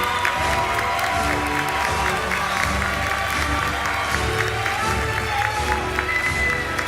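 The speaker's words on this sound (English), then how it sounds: "Please give a round of applause for the fifth row of graduates." Audience at a high school graduation ceremony in an auditorium in Jeddah claps for a row of graduates, a dense steady patter of applause with scattered voices and a few whoops.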